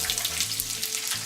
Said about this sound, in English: go ahead and introduce our onions